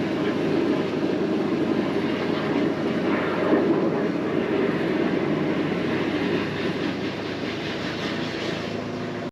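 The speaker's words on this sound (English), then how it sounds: "let's get the jetter back on and we'll see if we can clear any more of this blockage" A high-pressure drain jetter clears a pipe blockage at a hospital, giving a loud, steady, unbroken roar of pumped water and machinery that holds the same level throughout.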